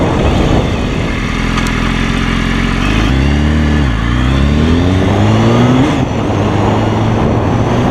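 A 2015 BMW S1000RR with an inline-four 1000 engine pulls hard through rising revs and gear changes, loud and close, under wind noise during a ride.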